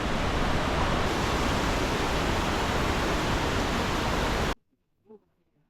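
Iguazu Falls roars as a dense, loud, continuous wash of falling water close at hand, cutting off abruptly near the end and leaving a brief faint sound.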